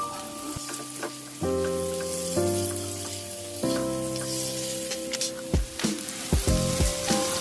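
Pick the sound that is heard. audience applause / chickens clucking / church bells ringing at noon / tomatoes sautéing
tomatoes sautéing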